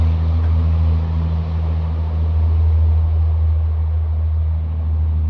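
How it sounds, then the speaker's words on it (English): A loud truck or semi passes outside on a rural road, a heavy, steady low engine rumble that holds close and loud through the whole stretch. "loud trucks or semis, they just come out of nowhere"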